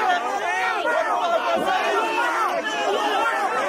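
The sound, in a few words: crowd shouting in protest at a boxing match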